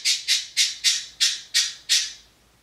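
Pet birds give seven sharp, harsh squawks in a fast, even series, close and loud, with nothing else heard.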